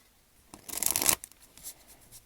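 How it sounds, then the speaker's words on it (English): A tarot card deck being shuffled, one brief close riffle of cards about half a second long, with a few soft card taps before and after in a quiet room. "I'm going to go ahead and get started shuffling the deck here."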